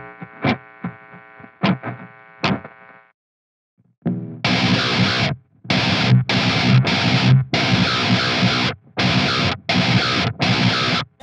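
Electric guitar through a Precision Drive overdrive pedal, first a few ringing plucked notes, then loud, heavily distorted chugging chords in short bursts separated by clean gated silences.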